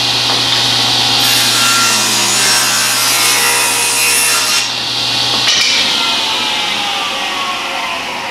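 Table saw ripping a narrow strip of wood, a loud continuous whining cut with bright grinding hiss held for about five seconds before the blade sound thins and winds down near the end.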